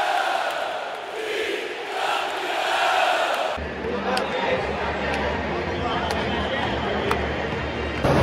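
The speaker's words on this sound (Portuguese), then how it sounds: "A tricampeão é o que canta a torcida do Flamengo!" Flamengo supporters at the Maracanã chant in a dense, sustained roar for a Fla-Flu match, a massed crowd of voices rising and falling steadily at some distance with a brief shift in tone partway through.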